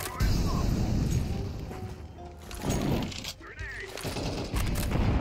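Dense bursts of gunfire and impacts in a Counter-Strike 2 match, loud and close, with rapid overlapping shots and crashes continuing throughout over busy game noise.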